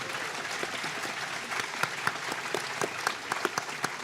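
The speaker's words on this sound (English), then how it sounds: "Can I get a big round of applause for our guests today?" Steady applause from an audience at a writers' festival event, a dense wash of clapping with a few louder individual claps standing out, sustained throughout.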